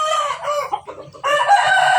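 Roosters crow loudly and close by, with chickens clucking around them, two long crowing calls separated by a brief pause.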